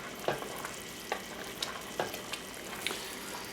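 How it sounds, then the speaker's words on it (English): Black and red currant jam boils in a pot, giving a soft continuous bubbling hiss with scattered small pops and occasional light stirring sounds, fairly quiet and with no voices. "I'm going to go ahead and just keep boiling this"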